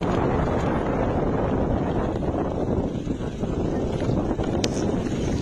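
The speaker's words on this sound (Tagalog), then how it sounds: "Ang lakas ng hangin" Strong, cold wind in Ilocos Norte, Philippines, roars and buffets continuously close to the microphone, a dense low rushing noise with no pauses.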